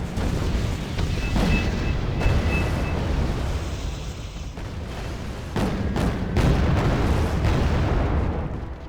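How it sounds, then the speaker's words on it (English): Heavy cannon fire and explosions from a Leopard tank battle in Wargame: Red Dragon, a series of loud booming blasts with rumbling tails over a continuous din of combat. "And just accurate, dangerous fire on it from that leopard."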